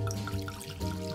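Old Crow Reserve bourbon whiskey being poured into a glass, a short, close liquid trickle with gurgling, bubbly splashes that briefly dip and then resume.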